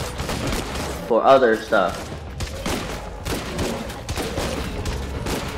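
Bursts of gunfire in a shooter video game crackle beneath someone talking, with a louder cluster of shots early on and scattered reports continuing afterward.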